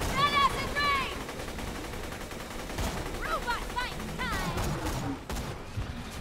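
Rapid bursts of gunfire from the Borderlands video game crackle in quick sequences, mixed with electronic weapon effects and game sounds, while a player talks excitedly over the action.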